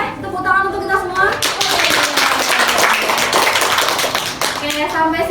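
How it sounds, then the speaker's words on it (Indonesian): Classroom of students clapping hands together in a long, dense burst of sharp taps lasting several seconds, with a voice speaking at the start and end. "Oke, tepuk tangan untuk kita semua."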